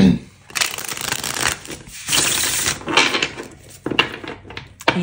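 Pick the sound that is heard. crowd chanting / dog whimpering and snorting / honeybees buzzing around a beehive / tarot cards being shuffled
tarot cards being shuffled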